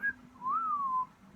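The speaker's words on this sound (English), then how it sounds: "He does the wolf whistle," A pet parrot whistles a wolf whistle indoors, a short rising note followed by a longer swooping, falling whistle, clear and close with no talking.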